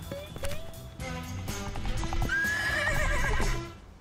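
Hooves clip-clop quickly as a horse runs in a video game, followed by a loud neigh, up close with a busy background.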